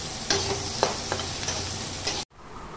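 Onion fries in a wok, a close, steady sizzle broken by a few scraping stirs of a spatula, cutting off abruptly near the end to a quieter background.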